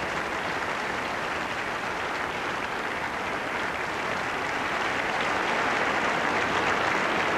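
Dense, steady audience applause fills a concert hall after an opera performance of Boris Godunov, a continuous roar of many clapping hands that holds at full strength throughout.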